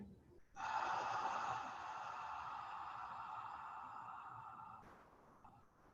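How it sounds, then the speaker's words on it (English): A long, slow breath during a yoga session, one sustained airy inhale and exhale heard close and soft, fading away after a few seconds with no talk. "Inhaling one more time and exhale."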